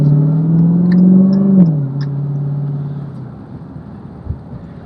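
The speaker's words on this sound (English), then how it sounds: "The car sounds amazing." A Dodge Challenger Demon engine revs while driving, a close, deep rising tone that drops with a gear change and settles into a steady lower drone, fading toward the end.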